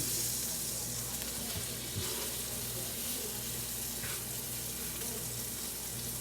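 Chicken pieces fry in butter in a pan for chicken Marsala, giving a steady close sizzle with faint spatters and stirring sounds, and no talking.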